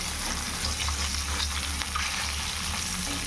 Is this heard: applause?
no